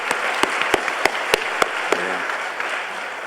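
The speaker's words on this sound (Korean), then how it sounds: "여러분 환영과 위로와 축하와 따뜻한 격려의 박수 한번 해보시기 바랍니다" Applause from a church congregation during a Sunday service, even crowd clapping punctuated by sharp, regular claps close to the microphone, with a brief voice near the end.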